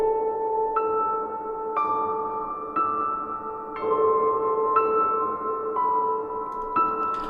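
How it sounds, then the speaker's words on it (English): Piano heard through the Lunacy Audio Beam effect plugin on its Above preset: roughly one struck chord per second, smeared into a continuous shimmering wash that fills the gaps between notes. It plays alone with no talk. "if I switch the plugin on with this preset called Above, let's have a listen to what it's doing at the moment."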